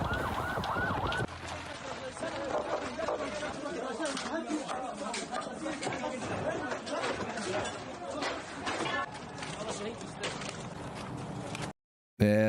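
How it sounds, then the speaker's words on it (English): Ambulance sirens wail continuously as emergency vehicles race to help people after Israeli airstrikes, loud and busy with voices and street noise mixed in, ending in a brief silence. "video of ambulances racing to go help people following Israeli airstrikes."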